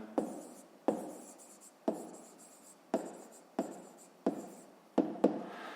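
Chalk or marker writing on a board during a math lesson, with a quiet run of regular strokes, each starting with a tap and trailing off in a short scratch, about one per second.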